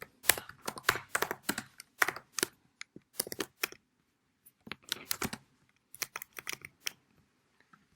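Rapid bursts of crisp keystrokes on a computer keyboard while code is typed for a lesson on strings and methods, clustered clicks separated by short pauses, close and fairly quiet with no talking.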